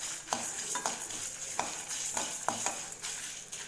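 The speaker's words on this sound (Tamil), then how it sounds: "இது ரெண்டையும் சேர்த்துட்டு இது நல்லா மிக்ஸ் பண்ணிட்டு லோ ஃப்ளேம்லேயே வறுத்துக்கலாம்." Black pepper and fennel seeds dry-roasting in a pan over a low flame, with steady scraping stirs and a soft sizzle repeating every half second or so, close up and with no voices.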